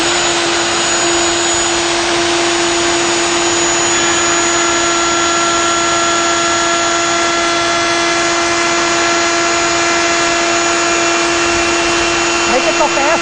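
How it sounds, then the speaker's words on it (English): A wood router runs at a steady, loud high-pitched whine for the whole stretch, fed in the reverse direction, with no pauses. "Now this is backward than how you want to run the router"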